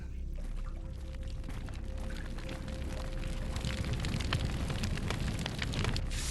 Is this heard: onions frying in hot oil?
no